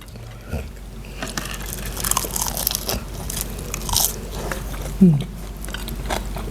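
Close crunchy bites and chewing as someone eats hot steamed rice wrapped in crisp seaweed with nam prik narok chili paste, with soft mouth noises and a brief vocal sound.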